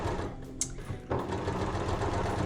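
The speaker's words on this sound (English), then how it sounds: "serge around all the way around my pockets" A serger overlocks around the seam allowances of skirt pockets, a steady loud mechanical whir that runs continuously after a brief start.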